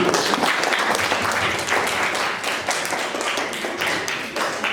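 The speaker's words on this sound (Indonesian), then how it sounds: "bagi tepuk tangan kepada kalian" An audience, likely a class of students at a teacher's classroom activity, gives a dense round of applause with many hands clapping steadily for about five seconds, loud and continuous with no speech over it.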